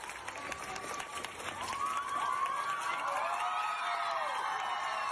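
Students and school staff lined up in a corridor applaud a retiring teacher, a moderate, continuous wash of clapping and faint cheering heard from a slight distance.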